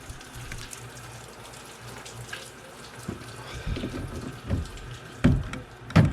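Water drains out of the hoses of a greenhouse watering system being readied for winter, a close, uneven splashing and gurgling trickle with occasional louder gushes and thumps toward the end.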